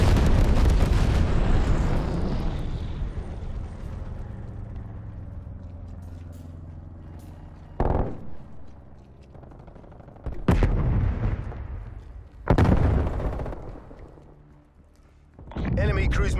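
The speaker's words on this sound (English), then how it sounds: "SITREP, napalm strike inbound." Napalm strike in a Call of Duty match, with a heavy roaring blast that fades slowly, followed by several sharp, loud bursts and gunfire spaced over the following seconds.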